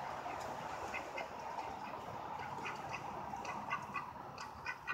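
Ducks quack repeatedly in brief nasal bursts, several birds overlapping at moderate distance against a steady outdoor hum.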